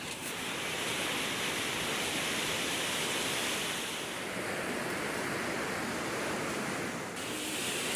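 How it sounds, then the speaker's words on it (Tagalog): Strong ocean surf roars continuously, a dense wash of crashing waves with gusty wind and no voices. "Grabe lakas ng alon"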